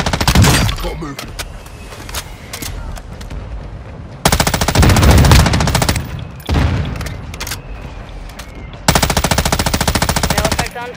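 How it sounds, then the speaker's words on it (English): Machine gun fire in a military video game, long sustained bursts of rapid automatic shots separated by brief gaps, loud and close, with crashing impacts between bursts and game radio voices heard faintly. "You are taking effective fire."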